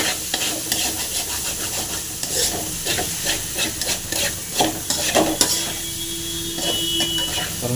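Raw plantain pieces with masala fry in a hot pan while being stirred. A continuous sizzle and hiss runs beneath repeated scraping and clinking strokes of the spatula, close and fairly loud.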